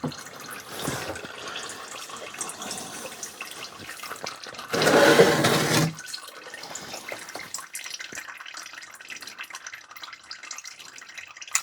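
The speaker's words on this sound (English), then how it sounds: "What we want is just a steady trickle coming back out." Transfer case fluid trickling and splashing out of a Toyota Tundra into a container, a steady wet patter with a brief heavier gush midway, close and alone.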